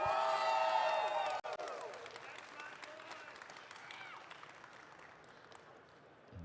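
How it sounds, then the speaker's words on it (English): Audience applause and cheering at a Bandai card game festival in Dallas, a broad crowd wash that starts loud and slowly fades. A few voices and shouts sit within it. "I want everyone to give a big round of applause for the huge amount of effort that went into this awesome accomplishment"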